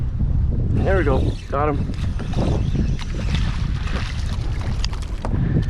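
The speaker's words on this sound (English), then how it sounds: "Ooh, wind is strong, strong." Strong wind buffets the microphone in a steady roar while kayak fishing for redfish on the water near Corpus Christi, with someone talking briefly over it near the start.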